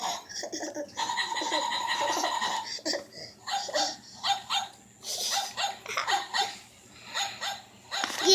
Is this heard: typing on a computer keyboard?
no